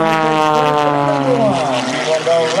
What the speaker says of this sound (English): keep in mind, this is Sean's rehearsal flight this morning